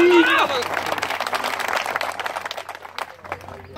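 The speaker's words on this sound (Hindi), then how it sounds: "जोरदार तालियों के साथ" A crowd at an Indian political rally for the BJP claps together. A speaker's voice is heard briefly at first, then a burst of many hands clapping follows and gradually fades.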